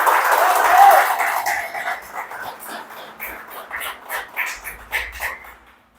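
Congregation applause for Jesus during a Portuguese-language church service, starting as a loud dense burst that fades into scattered, uneven claps and trails away to near silence.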